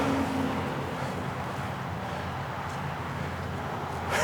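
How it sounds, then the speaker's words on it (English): A mower running steadily on a disc golf fairway, a continuous low engine drone heard from a moderate distance with wind noise and no clear speech. "So he's mowing this fairway right now."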